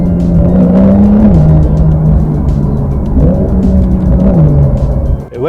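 A Porsche 911 Carrera S with PDK gearbox accelerates hard, its engine rising in pitch through a smooth gear change and climbing again. The sound is loud, close and steady, with no talking.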